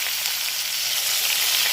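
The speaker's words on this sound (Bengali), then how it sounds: "এর মধ্যে দিয়ে দিচ্ছি টমেটো একটা গোটা টমেটো কুচি করে নিয়েছি" Chopped tomato dropped into oil left over from frying fish, giving a loud, steady, bright sizzle that runs unbroken throughout with no talking.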